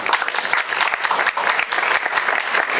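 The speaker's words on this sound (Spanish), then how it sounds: "un fuerte aplauso efectivamente por esta importantísima certificación" An audience at a municipal palace ceremony in Cuautla applauds a workplace health certification, a lively burst of many hands clapping with uneven, crackling rhythm close by.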